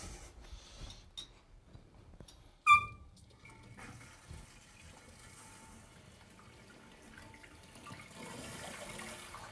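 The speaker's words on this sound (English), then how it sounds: "turn the water on." Water rushes into a newly installed toilet tank after the supply is turned on, starting with a sharp valve squeal and then a quiet, steady hiss of refilling.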